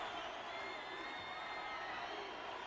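A male crowd in the video game Reverse: 1999 cheers as a dense, steady wash of distant voices, continuous and moderately loud throughout.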